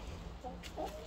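Backyard chickens give a couple of soft, brief clucks, faint and close together over low background noise.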